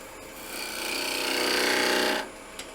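A cherry bowl spins on a wood lathe as a tool cuts into it, producing a continuous rasping, whirring scrape that swells over a couple of seconds, then drops away sharply. The sound is close and moderately loud.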